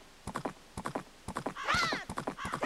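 Video game horse riding in The Legend of Zelda: Majora's Mask (N64): steady rhythmic hoofbeats clip-clopping in a regular gait, with a horse whinny rising in the middle, all clear and close.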